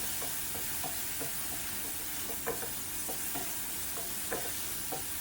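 Steady sizzling of chili and garlic stir-frying in a hot pan with intermittent scraping and stirring clicks, fairly close and without voices.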